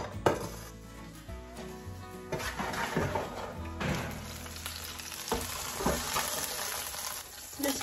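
Onions and celery tumble into a pot of beef bones for broth, giving a series of thuds, knocks and clatters against the pot, a few louder hits standing out over a busy, faint background.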